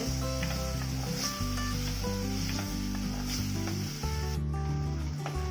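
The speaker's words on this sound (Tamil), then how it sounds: "நல்லா வதக்கிக்கலாம்." Tomatoes and other ingredients sauté in a clay pot for manathakkali kai kuzhambu, a steady close sizzle with stirring scrapes under a loud droning hum, continuous throughout with no voices.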